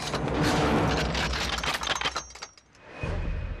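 Rapid bursts of machine-gun fire in a wartime action film, loud and dense cracks for most of the span, briefly dropping off before another burst resumes near the end.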